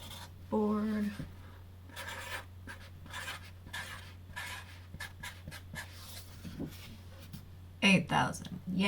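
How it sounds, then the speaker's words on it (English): A marker or pen scratches and rubs across a paper board in short, quick strokes with brief pauses between them, fairly close and distinct, and a person speaks at the start and again at the end. "And then I'll update the paper board"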